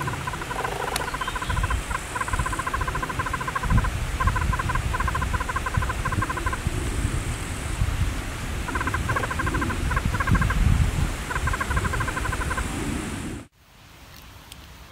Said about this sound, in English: here's a yellow-bellied toad and it's actually calling.